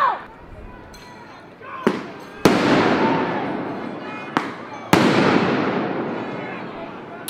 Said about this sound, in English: At this point, most of us became so used to the flashbangs